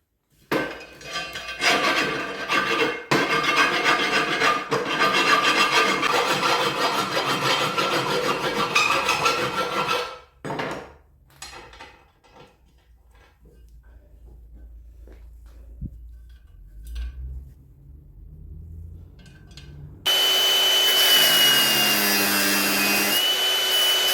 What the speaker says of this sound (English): It's not quite big enough, so I'm going to have to file it out.